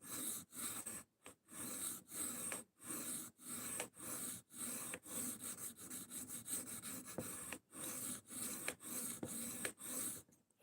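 A knife blade drawn across a sharpening stone in repeated strokes, giving a steady rhythm of close rasping scrapes separated by brief pauses, with no voices.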